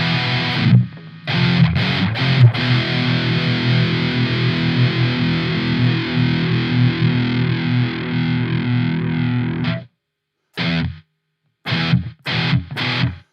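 An electric guitar runs through a Nembrini MP1 Pro amp simulator with the noise gate off, giving a loud, heavily distorted sustained chord that stops abruptly, followed by short choppy distorted stabs separated by silences.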